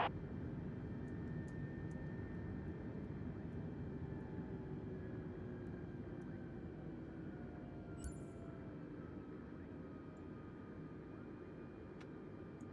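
Airliner engines in Microsoft Flight Simulator 2020 hold a steady broadband roar during climb with auto thrust active, a constant low hum with slowly drifting tones and a brief click partway, no talk.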